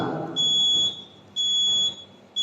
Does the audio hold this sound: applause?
no